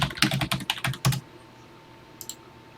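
TI Basic program being typed on a computer keyboard into a TI-99/4A emulator, a fast close burst of about a dozen key clicks over the first second, then quiet with two more taps near the end.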